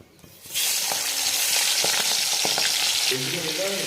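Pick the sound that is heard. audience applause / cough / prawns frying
prawns frying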